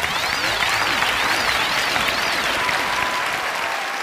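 Sustained, dense applause from a studio audience welcoming twelve bosses on a Chinese TV job-recruitment show in Tianjin, steady and loud throughout with a faint musical tone underneath.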